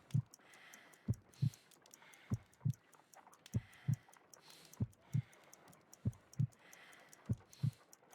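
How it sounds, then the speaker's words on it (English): A slow heartbeat in the Sherlock Holmes: Crimes & Punishments video game thumps in steady paired beats, low and muffled, repeating evenly through the stretch. "I need to concentrate and count the heartbeats."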